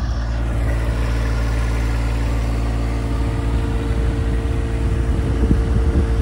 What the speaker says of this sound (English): This John Deere is gonna pull all our bikes.